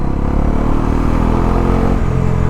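A 2024 Bajaj Pulsar NS400Z 400cc motorcycle revs under throttle, a loud, close, continuous engine roar with a low rumbling drone held steady for the whole short stretch.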